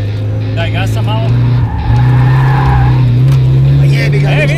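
During a drift contest, a car drifts with a loud, sustained tire squeal over a revving engine, broken by a brief dip before the squeal resumes, while people talk excitedly nearby.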